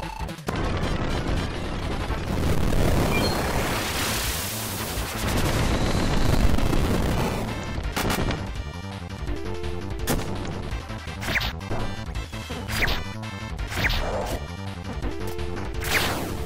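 The Mega Cannon is destroyed in Kirby Super Star Ultra: a long, loud roar of crashing explosion noise, then a string of sharp game blasts and impact bursts as it breaks apart.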